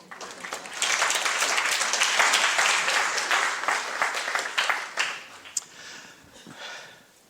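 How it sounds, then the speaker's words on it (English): An audience applauds after a congratulatory speech, the dense clapping building quickly, holding steady for several seconds, then thinning out and fading. "Please give yourselves a round of applause."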